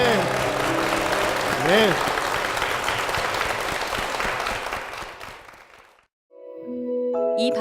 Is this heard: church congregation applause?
yes